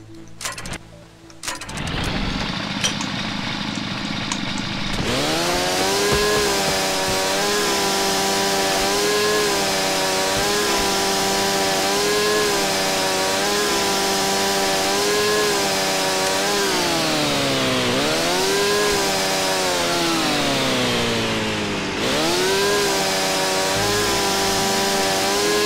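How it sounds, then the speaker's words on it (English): Chainsaw revving in the Starforge video game, a loud continuous buzzing engine whine that starts after a brief lead-in, holds steady with a few pitch dips and surges as the throttle eases and picks up again. "A chainsaw can be used also as a weapon."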